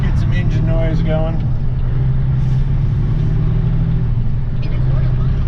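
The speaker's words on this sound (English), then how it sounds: "Cracked window so we can get some engine noise going." A truck's muffled Caterpillar diesel hums in a steady low drone, heard from inside the cab with the window cracked on a delivery run, with a brief voice early on.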